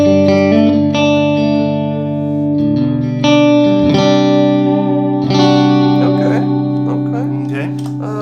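An electric guitar played on the neck pickup through a Vox AC30 amp modeler rings out in sustained, chiming chords with a little reverb, strummed loudly in several swells that decay between strikes.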